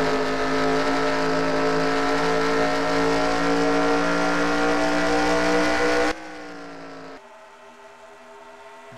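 Stock race cars racing at Kansas Speedway: a loud, steady, droning engine roar that holds without a break, then abruptly drops to a quieter, thinner hum.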